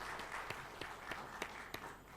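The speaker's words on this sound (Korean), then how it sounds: "우리 박수로 하나님께 영광 돌리겠습니다." A church congregation at a Korean Sunday worship service applauds together. The clapping is soft and steady, with a few sharper beats giving it a loose rhythm.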